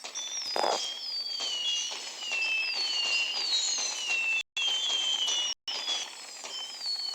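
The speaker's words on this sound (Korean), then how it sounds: "이렇게 폭죽 불꽃놀이를 하기도 하고요" Small fireworks planted in the ground and lit, giving off continuous shrill whistling tones that bend up and down over a fizzing crackle, with a brief burst near the start and two short breaks.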